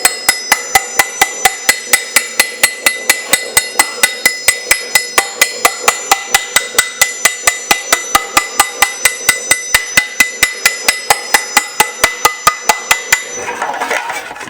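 A hammer beats a sheet metal panel to shape it, striking in a fast, steady rhythm of sharp metallic rings, about three or four blows a second, loud and close, for roughly thirteen seconds before stopping.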